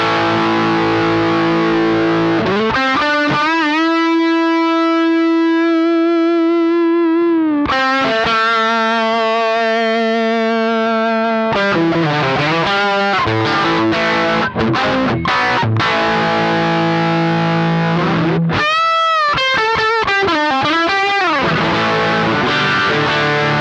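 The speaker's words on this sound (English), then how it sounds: "I'll put the volume to 10 on the tuner, which means it's acting as a clean boost." Electric guitar through a pedalboard with a tuner pedal set to full volume as a clean boost into drive, playing loud distorted sustained chords and choppy riffs with bends, close and continuous with no talking.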